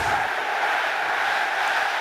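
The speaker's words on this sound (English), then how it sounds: "The Jets crowd has come to life." New York Jets home crowd roaring at an NFL football game against the Bills, a sustained, loud, distant stadium cheer that holds steady throughout.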